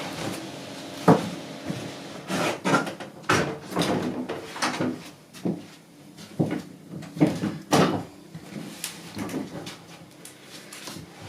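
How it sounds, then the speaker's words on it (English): A door being shut during a colored-pencil drawing session, with a series of sharp knocks, creaks and clunks of handling and closing, close and uneven, scattered over several seconds. "I'm just going to shut the door."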